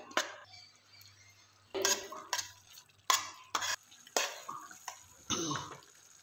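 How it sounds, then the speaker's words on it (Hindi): Green chillies frying in butter are stirred in a pan, giving a series of separate scraping and clinking utensil strokes, close and fairly quiet. "जो हमने मक्खन डाला था उसमें ये अच्छे तरीके से भुज गई है"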